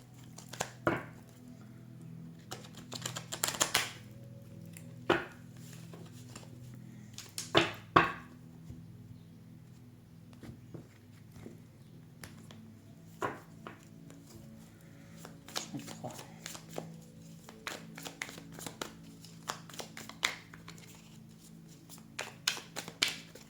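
Tarot cards are shuffled and drawn in a series of brief crisp riffles and flicks. The bursts come in clusters separated by quieter stretches, close and distinct over a low background hum.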